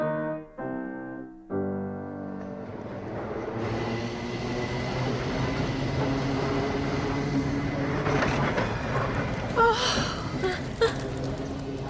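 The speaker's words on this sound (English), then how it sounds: "What a lovely, exciting tram." A tram rolls along, its rumble swelling into a steady, close mechanical roar after a brief tonal start, with rattles and a few sharp squeals of wheels near the end.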